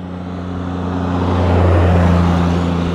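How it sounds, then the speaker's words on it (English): A six-wheel John Deere Gator utility vehicle engine drones steadily nearby, swelling slightly as it moves, with a low humming tone and no talking. "It's not, it's a six-wheel John Deere Gator with Merlin at the wheel."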